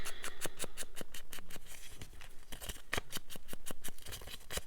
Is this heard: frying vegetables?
no